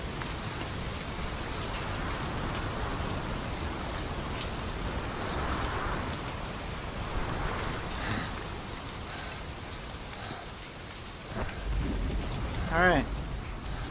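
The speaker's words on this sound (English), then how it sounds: "Because it's raining." Steady rain falls throughout a Metal Gear Solid V game scene, a broad constant hiss with a few brief louder bursts near the end; a voice is briefly heard over it.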